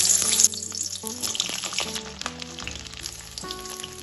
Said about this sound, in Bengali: তেলটা হালকা গরম হয়ে গেছে, এখন আমি পটলগুলো ভেজে নেব। পটলগুলো দিয়ে দিলাম তেলে।